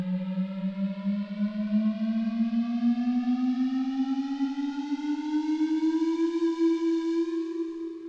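A Korg M1 synthesizer note played softly swells in slowly and sustains as a smooth tone, sliding gradually upward in pitch over several seconds with no other sounds.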